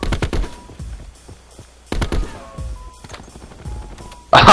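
Gunfire in the video game Black Ops 4: loud, close bursts of rapid automatic shots in three clusters separated by brief quieter gaps, with faint game sounds between bursts.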